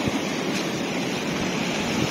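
A raging, swollen river rushes in heavy rain beside a flooded wild campsite, a continuous dense roar that stays loud and even from start to finish.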